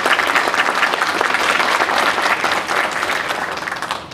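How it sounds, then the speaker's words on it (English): Steady, dense applause from a concert band audience at McHenry County College, continuous and full for the whole stretch, tapering slightly toward the end with no talking. "So if you could please give them a round of applause."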